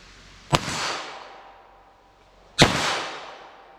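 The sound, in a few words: 22 LR Stinger rimfire gunshots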